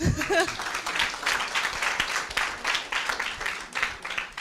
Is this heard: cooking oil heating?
no